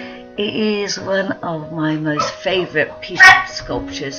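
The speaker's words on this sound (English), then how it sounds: "Sorry, that's my dog." A pet dog barks and yips several times indoors, close and loud, while a person keeps talking over it.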